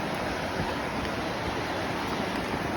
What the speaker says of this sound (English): Coming up on the Devil Track River,